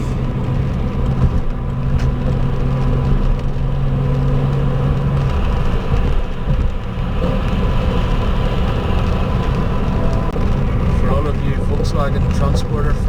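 A BMW E39 530i drives along a German Autobahn in winter, its engine and road noise a steady loud cabin rumble that goes on throughout, with someone talking over it.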